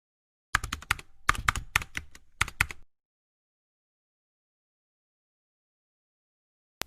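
Rapid typing on a computer keyboard comes in three quick bursts of close, crisp keystrokes over about two seconds, followed by silence.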